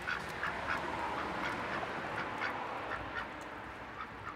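Several ducks quack repeatedly in a steady, overlapping stream, close by, against a constant noisy outdoor background.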